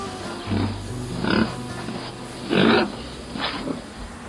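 Pigs on a pig farm grunting and squealing, several loud, close rough calls in an uneven rhythm over a low background hum.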